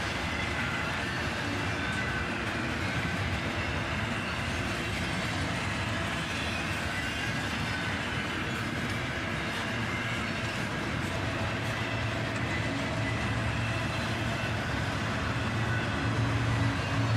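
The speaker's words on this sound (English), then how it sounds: "A northbound intermodal train, led by an ES44 ACH and a YN2" A CSX northbound intermodal freight train led by ES44AH and AC44CW locomotives rolls steadily past, a loud, continuous rumble of engines and railcars with faint wheel clatter throughout, no talking.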